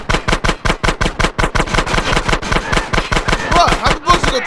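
Sustained rapid automatic gunfire in GTA San Andreas during a police chase, a steady loud rattle of evenly spaced shots running without a break.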